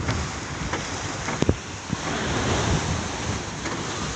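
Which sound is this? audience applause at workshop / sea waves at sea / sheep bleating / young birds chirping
sea waves at sea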